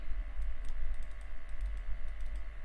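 A name being typed on a computer keyboard, a quick run of light, close key clicks in an irregular rhythm over a low steady hum.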